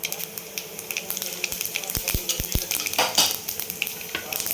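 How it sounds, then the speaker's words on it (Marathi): Mustard seeds and cumin crackle and sizzle in hot oil in a kadai, a steady frying hiss broken by a few sharp pops and light stirring clatter, close and moderately loud with no talking. "मोहरी टाकते पाव चमचे जिरे पाव चमचा"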